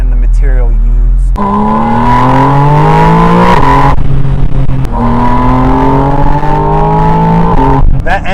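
Porsche 718 Spyder RS engine revving hard through rising gears, a loud high-pitched wail climbing repeatedly with brief dips between shifts, with someone talking over it.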